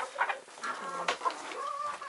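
Chickens in a coop clucking and squawking close by in short, repeated bursts, several birds calling one over another.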